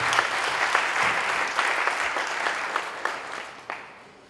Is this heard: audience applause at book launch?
yes